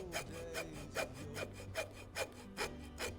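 A hacksaw cuts into a stuck oil filter on a 1941 Ford flathead V8, the blade rasping in about eight steady back-and-forth strokes, close and fairly quiet, with no speech.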